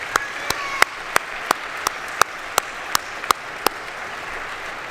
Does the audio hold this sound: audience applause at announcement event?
yes